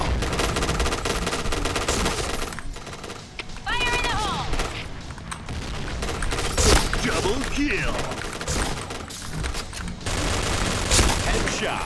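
Rapid bursts of K-3 gunfire in the Point Blank online shooter game, dense and loud throughout, mixed with other game sounds and voices talking over it.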